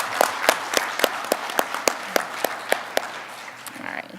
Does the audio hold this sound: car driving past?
no